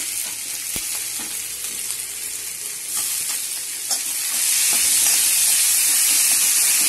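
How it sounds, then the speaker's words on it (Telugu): Chopped onions and tomato pieces frying in an oil-filled pan for brinjal and cowpea curry, a steady close sizzle with occasional stirring clicks, growing louder and hissier near the end. "ఇప్పుడు ఉల్లిపాయలు ఏగాయండి టమాటా ముక్కలు వేస్తున్నాను"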